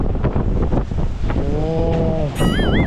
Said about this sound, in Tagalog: Grabe na eh, parang elepante yung tunog eh ng hangin.